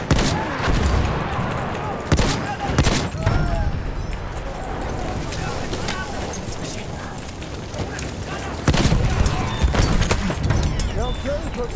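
Video game combat with a grenade explosion and bursts of gunfire, several sharp cracks and heavy booms over dense continuous battle noise, loud and close, with voices talking over it.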